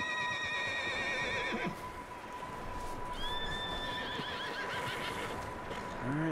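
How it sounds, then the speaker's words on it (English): Horses neigh and whinny in the Red Dead Redemption 2 video game, several drawn-out calls rising over a constant clip-clop of hooves, fairly close, with a steady tone and no talk. "Horses?"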